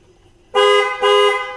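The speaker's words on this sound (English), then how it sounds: "honk the horn." Two loud car horn honks close by, one right after the other, each a steady blaring tone lasting about half a second.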